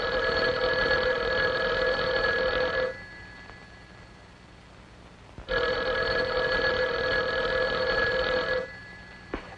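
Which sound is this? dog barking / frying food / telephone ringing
telephone ringing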